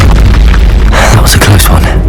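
A loud booming blast from the Confringo spell in Hogwarts Legacy on PS5, with a deep rumble that fills the whole clip and bursts of crackle toward the end.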